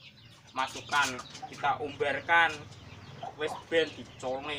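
A fattened hen being raised to lay eggs again clucks in a series of short calls close by while someone talks over them.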